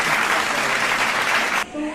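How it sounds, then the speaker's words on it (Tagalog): A small group claps steadily in a broad, busy burst that cuts off abruptly near the end, leaving a quieter room tone with a faint tone in the background. "Palakpak naman dyan, boy."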